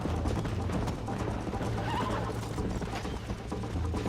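A horse in the Western video game Red Dead Redemption whinnies while its hooves clip-clop steadily, set against a dense, constant background of game ambience.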